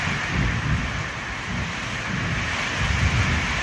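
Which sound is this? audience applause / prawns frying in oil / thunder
thunder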